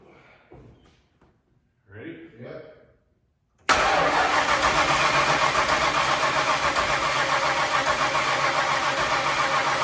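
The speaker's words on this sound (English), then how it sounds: "You wanna sit inside and turn the key on, hold your foot on the brake just in case? And give it a little gas?" A Ford Bronco that had sat for over ten years cranks and fires after brief talk, then settles into a loud, steady idle that runs to the end.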